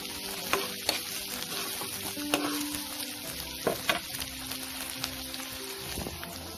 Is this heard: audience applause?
no